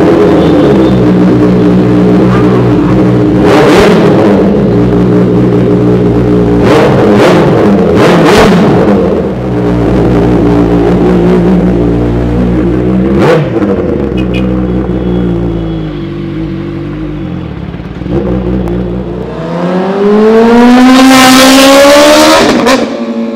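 A loud Kawasaki Ninja ZX-10R superbike engine revs hard in repeated blips, roaring up and down, then climbs into a sustained high-pitched scream near the end.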